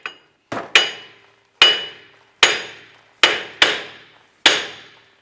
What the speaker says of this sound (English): use a hammer and try and work the hub around the perimeter to get it loose from the knuckle